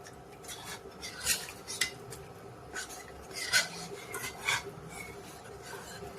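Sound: stirring soup in a pot

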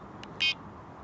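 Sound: Mivardi Combo M1350 fishing bite alarm beeping tone

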